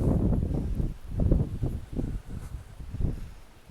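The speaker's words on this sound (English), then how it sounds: "It's windy today." Gusty wind blows across an outdoor organic farm among blueberry rows in October, with rough low rumbling buffets that rise and fall in uneven surges.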